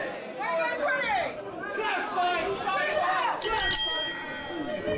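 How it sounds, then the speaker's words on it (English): A bell rings briefly to open the first match between two competitors, a short bright cluster of strikes midway through, cutting through steady crowd chatter and ongoing talk. "bell rings. The first match up underway."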